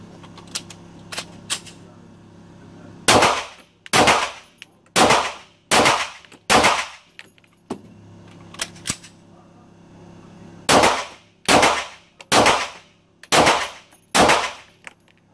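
Two quick bursts of gunshots, five sharp cracks each, ring out loud and close with short echoing tails. Several fainter, thinner pops come before each burst.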